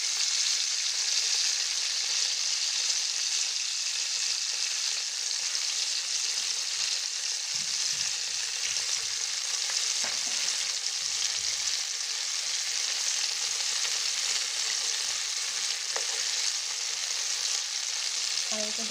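Chicken shashlik sizzles steadily in a pan, a dense close frying hiss that holds at an even level throughout with a few faint pops and clinks.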